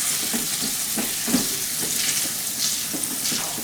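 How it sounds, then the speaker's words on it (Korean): Blanched bell pepper and shrimp sizzle in melted butter in a pan, a steady loud frying hiss broken by soft scraping stirs close up, with no talking. "아까 데쳐놓은 피망하고 새우하고 넣고 같이 이제 여기 볶겠습니다"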